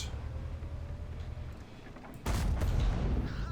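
A single heavy tank gun shot from a VK 168.01 Mauerbrecher super-heavy tank in World of Tanks, a sudden loud boom with a sustained rumbling tail after a quieter stretch of engine hum.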